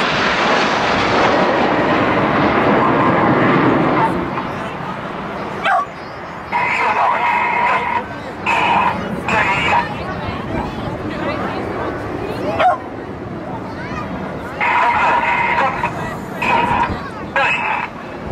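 Red Arrows RAF jets fly in Diamond 9 formation at an air display at Portrush, a broad, loud jet roar that fades into rushing noise while someone commentates over it.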